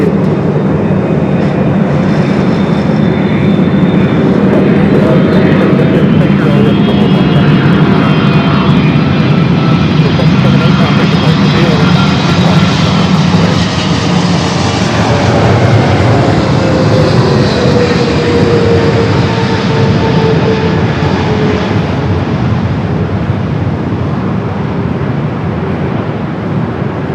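A jet airliner takes off from runway 24 left at LAX, a loud, steady engine roar that holds for the whole stretch with a broad rumbling wash and faint whining tones, heard alone without talk.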